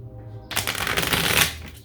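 A deck of cards being shuffled by hand, a quick burst of riffling flutter starting after a short pause and continuing for over a second, close and clear.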